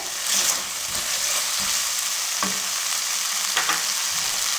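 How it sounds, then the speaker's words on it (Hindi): Masala spices frying in hot oil for a green chickpea curry, with oil risen to the surface; a steady broadband sizzle with occasional scraping stirs from a spoon, close and continuous, no voices. "तीन से 4 मिनट तक मसाले को भूनने से माशाल्लाह ऑयल ऊपर आ चुका है।"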